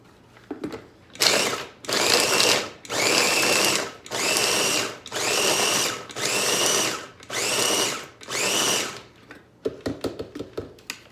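A stand mixer churns almonds into a dough, loud and steady, in seven even bursts of about a second each with short pauses between, then a few lighter clicks and knocks at the end.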